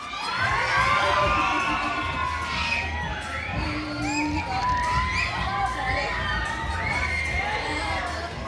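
An audience at a live science museum show in Barrow-in-Furness cheers and shouts excitedly, with high-pitched yells and whoops overlapping in a continuous, energetic roar.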